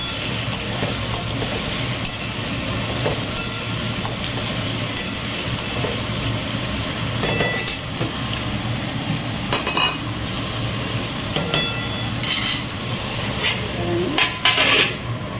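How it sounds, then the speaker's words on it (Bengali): Bitter gourd sizzles in a pan while a spatula scrapes and clinks against the metal now and then, a steady close-up frying hiss throughout. "উচ্ছে ভাজা কমপ্লিট।"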